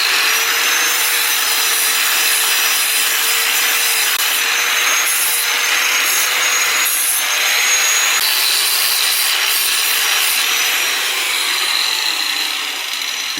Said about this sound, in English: I just want to polish it a little better. 120 grit.